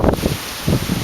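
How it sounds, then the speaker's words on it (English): Strong wind gusts over a corn field during harvest, rushing and buffeting the microphone in two loud bursts with a brief calmer moment between them. "Mighty windy day today."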